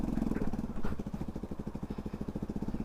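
Motorcycle engine running in third gear on a rough, broken mountain road, a fairly faint, rapid pulsing chug with an even rhythm throughout.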